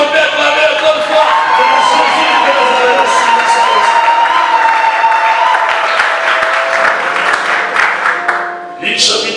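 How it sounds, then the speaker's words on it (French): A church congregation at a Bible seminar applauds and cheers loudly in a steady, sustained burst of clapping and shouts that fades slightly near the end. "Est-ce qu'on peut acclamer encore une fois?"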